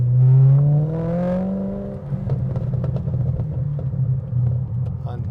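A Maserati Cambio Corsa's Ferrari 4.2 V8 revs hard through its aftermarket exhaust, climbing in pitch, dropping off, then settling into a deep, steady rumble, close and loud throughout.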